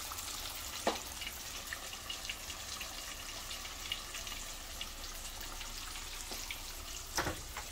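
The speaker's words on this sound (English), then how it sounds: "I give it a little stir and make sure it ain't frying together" A quiet, steady sizzle of buffalo fish frying in oil, with a few faint pops and crackles scattered throughout and no talking.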